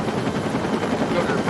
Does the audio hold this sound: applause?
no